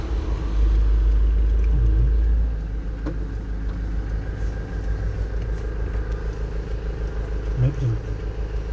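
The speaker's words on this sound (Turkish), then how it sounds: "Öteki araba geliyor." A car passes on a road beside a garden, a low rumbling engine swelling loud and close for a couple of seconds before settling into a steady background drone, with people chatting nearby.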